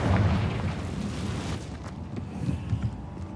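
A Confringo blasting spell goes off in Hogwarts Legacy, a loud booming burst with rumbling low end that decays into a dull residual roar over a few seconds, without any voice.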